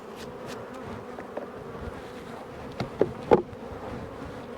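A dense, droning hum of many honey bees buzzing up close in a hive, steady throughout with a few sharp knocks near the end.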